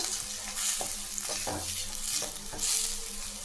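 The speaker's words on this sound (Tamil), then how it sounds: "நல்லா செவந்து வர மாதிரி வதக்கிங்க" Onions sautéing in a pan for kurma, with a steady close sizzle and repeated scraping stirs of a spoon against the pan, no voices.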